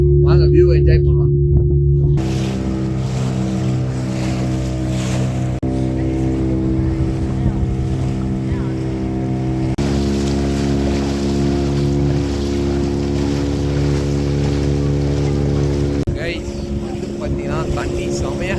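A speedboat on Pykara Lake drones loudly and continuously, its engine tone shifting in steps as it runs over the water, with wind and splashing mixed in and voices talking over it.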